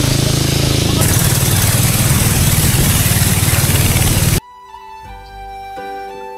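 An engine-driven boat travels along the Toin canal from Dusri bazar toward Alikadam in Bandarban, giving a loud, close, steady drone for about four seconds before it cuts off and music takes over.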